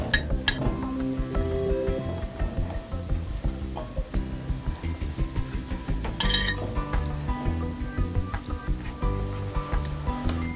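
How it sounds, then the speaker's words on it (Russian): Steady sizzling of onion frying in oil in a pan, with occasional clinks of utensils and faint voices in the background. "Лук жарится, а дальше что?"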